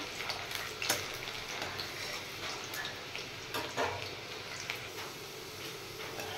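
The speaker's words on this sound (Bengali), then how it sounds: "রসুনগুলো আমি একটু ভালো করে ফ্রাই করে নেব।" Two large peeled garlic cloves fry in hot oil for khichdi, a steady bubbling sizzle with occasional sharper crackles and scraping stirs throughout.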